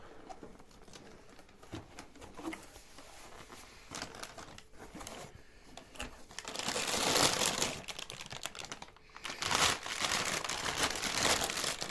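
Stiff plastic packaging of a Renault Laguna 2 brake caliper crinkles and rustles close by, quiet handling at first, then louder crackling bursts as it is squeezed and pulled.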